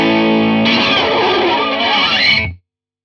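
Electric guitar played through a Hiwatt Custom 20 hand-wired valve amp into a 1x12 speaker, a loud, thick overdriven chord that rings briefly and is cut off abruptly, close with no talk.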